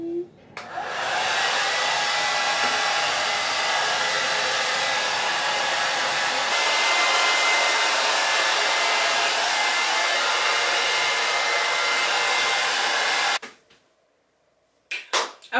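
A hair dryer blowing steadily on hair extensions being installed on a ponytail at home, a loud continuous close-up whoosh for about thirteen seconds before cutting off, followed by a few faint handling clicks.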